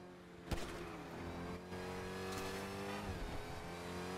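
Car engine in the GTA V NoPixel roleplay game, a steady driving drone with harmonic hum that revs and shifts pitch, a sharp thump near the start and brief bursts mid-clip, loud and continuous with no talk.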